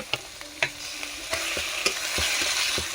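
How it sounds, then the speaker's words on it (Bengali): Onion with ground chili, ginger and spice pastes frying in mustard oil in a wok for a prawn malaikari, giving a steady close sizzle punctuated by sharp spatula knocks and scrapes at irregular intervals. "পেঁয়াজ ভালো করে ভেজে নেবো ওর সঙ্গে লঙ্কা ও বাটা দিয়ে দিচ্ছি"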